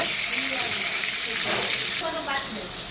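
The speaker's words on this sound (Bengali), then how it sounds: "এখন পটলটাকে আমি ভেজে নেব লাল করে" Pointed gourd frying in hot oil gives a steady, dense sizzle throughout, with a brief faint voice-like murmur partway through.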